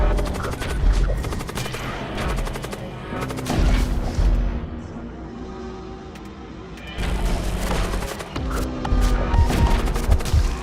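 Weapon fire in the Void War game sounds as dense, loud volleys of rapid shots and booming impacts, with rolling blasts and a brief quieter lull in the middle before the barrage picks up again.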